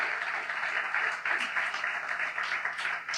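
A church congregation applauding during a Spanish-language sermon on the resurrection, giving a dense, sustained wash of clapping that fills the space, with faint voices mixed in.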